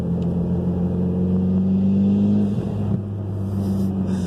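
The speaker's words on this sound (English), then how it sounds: "That blow-off valve, though," A Mitsubishi Evo X engine drones loudly and steadily on a city road in Sydney, then the note breaks off with a short blow-off valve release before the engine hum carries on.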